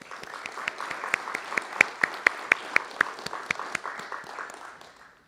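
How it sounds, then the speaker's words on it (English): Audience applause at an AAF-Akron annual meeting awards event, a modest crowd clapping with distinct sharp individual claps standing out, swelling briefly and then tapering off into quiet. "How about a nice round of applause for our AAF-Akron president, Daniel Kiersey."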